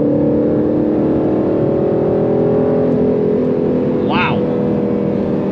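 A 2022 Aston Martin Vantage F1 edition pulls hard under acceleration, its engine a loud steady drone heard from inside the cabin, with a brief exclamation from the driver partway through.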